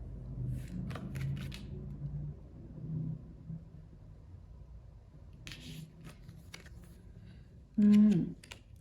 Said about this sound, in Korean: 여러분 먼저 조언 카드 뽑아볼게요.